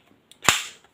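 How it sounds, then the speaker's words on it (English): AAP01 airsoft carbine being racked with no BBs loaded, a single sharp metallic clack close up, followed by a brief fading ring. "Just rack it to see if it's smooth or sticking or anything."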